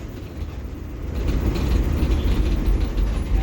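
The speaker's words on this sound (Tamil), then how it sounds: "ட்ரெயின் போகுது." A train rumbles past while heard from a bus travelling between Tiruvannamalai and Trichy, a loud, low, continuous rolling roar that swells and then holds steady.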